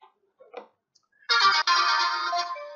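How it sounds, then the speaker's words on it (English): A SIYI AK28 radio transmitter beeps as it reboots: a few faint short blips, then a loud, shrill, sustained electronic tone broken by one brief gap, close and alone. "It makes quite horrible noise when it reboots"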